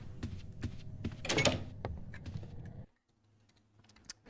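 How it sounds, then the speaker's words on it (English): Loud computer keyboard typing, a busy run of clicks and clacks for nearly three seconds, then a near-silent stretch with one faint tap at the end. "Loud ass keyboard, bro."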